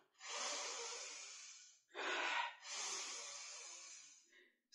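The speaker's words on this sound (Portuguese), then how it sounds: "O imenso dragão, com suas patas de águia, começou a se aproximar de Meirui e puxar a respiração" A long, breathy inhale-like rush for a dragon drawing breath in a told story, three swelling airy surges with a short gap between them, close and fairly soft.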